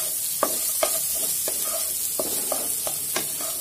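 Chopped onion frying in hot oil already seasoned with whole cumin seeds and bay leaf, a steady close sizzle broken by about eight sharp scrapes of a spoon stirring through the pan.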